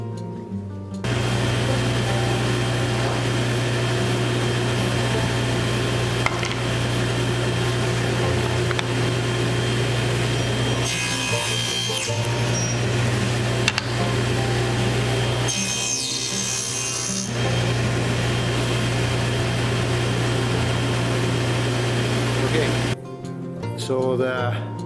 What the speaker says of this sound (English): So I'm going to set up the stacked dado head and make some test cuts,